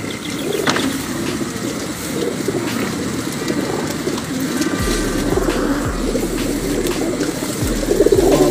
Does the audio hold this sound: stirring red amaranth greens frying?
no